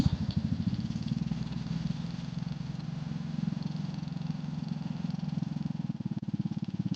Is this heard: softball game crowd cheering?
no